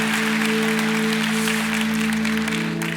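Congregational applause during a Korean church Sunday worship service, steady clapping from many people over a sustained low organ-like hum, even and continuous throughout.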